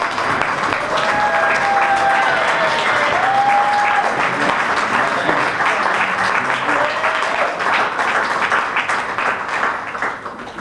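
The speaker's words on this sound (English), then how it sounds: "while we stand as everybody else claps" Steady, sustained applause from a crowd at a Keys to the City ceremony, loud and continuous throughout, with a few faint voices underneath.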